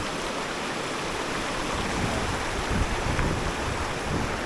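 Water rushes steadily in a continuous broadband roar, like a stream or small cascade nearby, with no voices.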